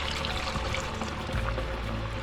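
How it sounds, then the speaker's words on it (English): Water pours steadily into a pot of chicken adobo with drumsticks, a continuous splashing trickle close by, with no talking. "We add our water in"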